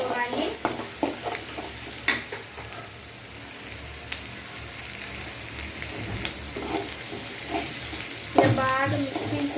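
Food being stirred and mixed with salt in a frying pan, scraping and clattering strokes at irregular intervals over a faint sizzle.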